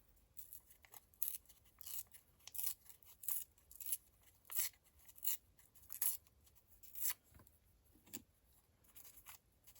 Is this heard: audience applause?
no